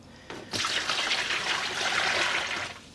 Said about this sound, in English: we are adding in water